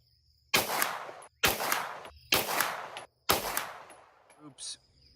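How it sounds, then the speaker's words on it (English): Springfield Kuna pistol-caliber carbine firing a group: four loud, evenly spaced single shots about a second apart, each with a sharp crack and short decay, followed by faint handling noises. "Okay, so I'll show you how I shoot this group."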